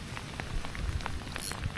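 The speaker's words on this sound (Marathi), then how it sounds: "खूप पाऊस पडतो आहे भयानक पाऊस पडतो आहे" Heavy rain falls steadily during a fishing outing, a dense patter of drops on surfaces with scattered closer taps and a low rumbling undertone.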